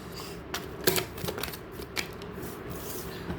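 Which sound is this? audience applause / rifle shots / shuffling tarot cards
shuffling tarot cards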